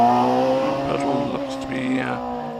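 Hillclimb race car driven hard up the course at Prescott, a loud tonal engine howl rising and falling through gear changes, close and prominent, with a brief high squeal near the end.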